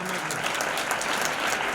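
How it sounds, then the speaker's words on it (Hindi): An audience at a community award ceremony claps for a young honouree, a short, even burst of dense, continuous applause with no voices. "ताली होनी चाहिए ना इसके लिए"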